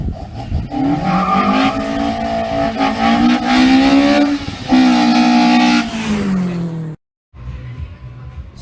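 A Toyota 3S-GE engine with 20-valve individual throttle bodies revs hard while driving, a loud continuous rising and falling engine note with tire squeal, cutting off abruptly before resuming more quietly.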